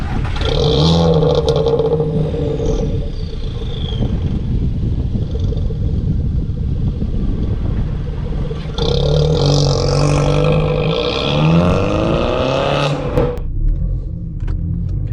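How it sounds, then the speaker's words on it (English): A modified VW Golf Mk6 1.4 TSI engine revs up loudly several times with a deep rumble, eases off, then revs again and pulls away, close and without talking. "We'll do a couple revs, we'll do a little pull away"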